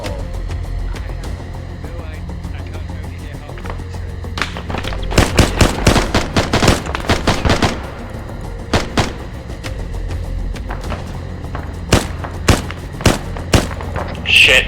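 Gunfire in the Arma 3 military shooter during a city evacuation mission, with bursts of rapid shots around the middle and scattered single cracks later, some near and some distant, over a steady ambient bed.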